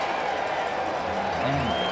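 Steady wash of a football stadium crowd in Calgary cheering and applauding at a Stampeders CFL game against Edmonton, loud and continuous with a commentator speaking over it.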